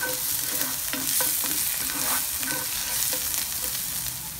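Mutton for a Kerala-style ularthiyathu sizzles steadily in a hot pan while a spoon stirs and scrapes through it, the frying hiss loud and continuous over a few seconds with no voices.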